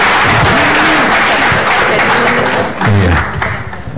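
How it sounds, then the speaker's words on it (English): Audience applause for two speakers at the close of a university public-health session, a dense, steady wash of clapping with voices rising over it near the end. "Applause for Pak Jack and Bu Tirta"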